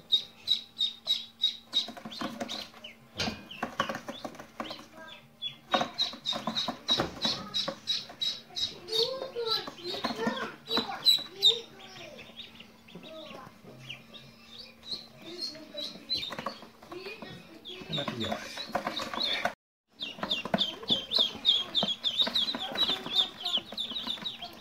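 Newly hatched Pekin ducklings peeping close by, a steady stream of high, shrill chirps in rapid overlapping bursts with brief pauses, plus occasional fluttering and rustling.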